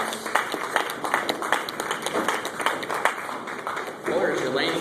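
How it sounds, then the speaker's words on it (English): Audience clapping for bowling finalists at a tournament in a bowling alley, scattered claps rising and falling over a few seconds amid room noise, with a voice speaking over the end. "Let's give a nice round of applause for the camera and for making it to the finals."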